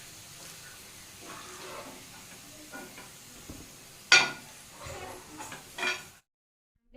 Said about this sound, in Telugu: ఆయిల్ వేడైన తర్వాత ఉల్లిగడ్డలు వేయాలి